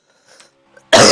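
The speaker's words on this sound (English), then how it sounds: "Excuse my coughing from recently" A motorsport race commentator gives a sharp, close cough that ends in a loud burst, preceded by faint throat sounds.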